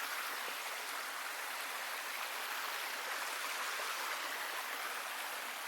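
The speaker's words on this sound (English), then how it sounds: "There's a little waterfall right there." A small waterfall on a forest creek pours in a steady, unbroken broadband rush, close and constant with no voices over it.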